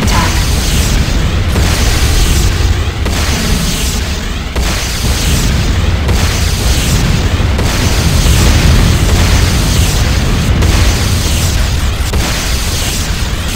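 A Tiberium refinery explodes in the video game C&C Renegade: a loud, continuous roar of rumbling blasts with deep booms swelling and overlapping for the whole stretch.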